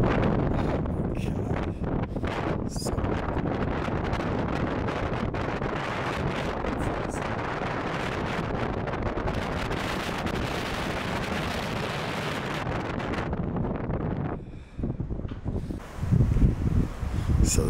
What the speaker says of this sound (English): It's so windy out here because we're up on a hill too.